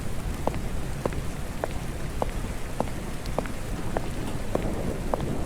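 Steady rain patters against the windows of an old library, a dense, even hiss with faint, regular drips tapping through it, with no voices.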